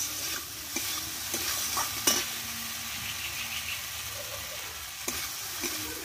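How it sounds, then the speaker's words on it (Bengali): Tomatoes and coriander stir-fried in a pan for a Bengali tomato bharta, giving a steady soft sizzle with occasional scraping clicks of a spatula, close and without speech. "এইভাবে ধনেপাতা দিয়ে ভালোভাবে একটু টমেটোগুলো কষে নেব।"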